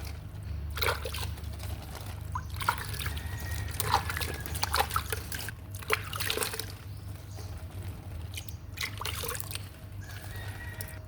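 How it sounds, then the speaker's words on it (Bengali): Water trickles and splashes onto potted jasmine plants in quiet bursts, soft pouring spells separated by short pauses over a low background hum. "একটু পানি দিয়ে দিই।"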